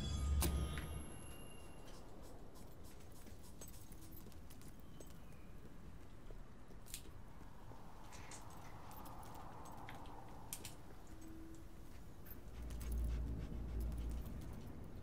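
Dog from the video game Fable 3 panting and barking, a steady soft background with a few short sharp yaps and a low rumble near the end.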